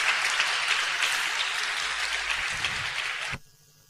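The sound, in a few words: applause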